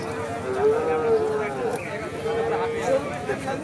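A young Pakistani-breed bull calf at a cattle market gives a long, drawn-out moo with a second lower call, close and fairly loud, while people talk around it.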